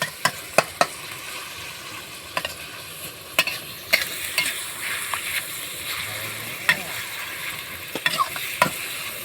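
Pork stir-fries in a pan for an instant noodle stir-fry with egg: a steady sizzle runs throughout, punctuated by sharp, close spatula clacks and scrapes at irregular intervals.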